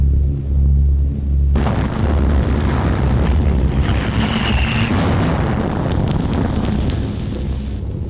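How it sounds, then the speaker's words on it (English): A bomb bursts during the 1940 London Blitz: a deep low rumble gives way to a sudden loud, wide blast that rolls on as a roaring, crackling wash for several seconds on an old, noisy recording. "That was a bomb."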